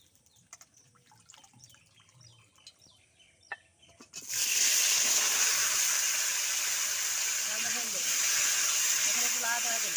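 Hot water pouring with a loud, steady rushing hiss of steam and splashing that starts abruptly partway through, after quieter clatter and faint voices.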